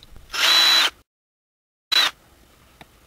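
A power drill whirs in two short bursts close by as it backs screws out of a remote-control Humvee, with a long silent gap between the bursts.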